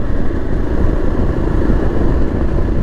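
A 2024 Yezdi Adventure motorcycle engine lugs at low speed in fourth gear, a loud, close, steady low thrum with a rough, uneven pulse.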